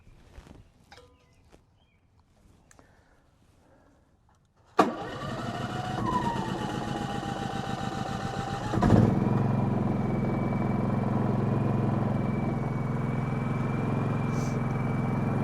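After some handling and clicks, a portable generator engine catches with a sharp start, runs briefly, then surges and settles into a loud, steady running drone close by.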